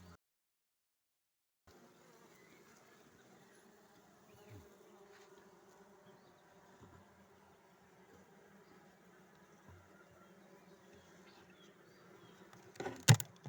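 A faint, steady drone of honeybees at a hive hums in the background throughout, with small rustles and a louder clatter near the end.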